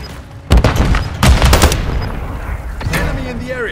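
Heavy gunfire in Call of Duty: MW3 during a hardcore Domination match on the Rust map, with loud overlapping rifle and machine-gun bursts close by, while voiced callouts sound between the shots.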